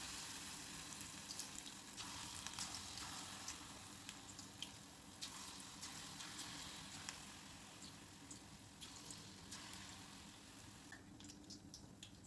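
Moong dal fritters (bhaje) frying in hot oil over medium heat, a faint, even bubbling sizzle with light crackles, continuous and without speech.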